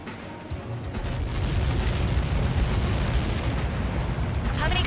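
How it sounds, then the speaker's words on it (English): A massive explosion from a projectile impact in the Ace Combat 7 video game. It builds after a quiet first second into a loud, sustained, roaring rumble that lasts to the end. "How many got caught in that explosion?"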